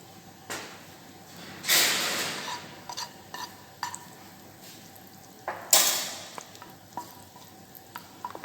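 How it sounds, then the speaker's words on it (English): Butter melting in a pan for strawberry sauce, a quiet sizzle with a couple of louder hissing swells and scattered clinks and scrapes of utensils, close by. "So add butter, melt the butter."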